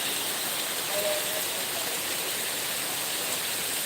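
Heavy downpour at Gulshan lake park, a dense, even roar of rain that holds steady and loud throughout.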